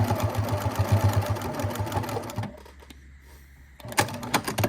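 A sewing machine runs in quick, rattling bursts while stitching along an existing seam of a folded fabric basket, pausing briefly before starting up again, close and moderately loud with no talking.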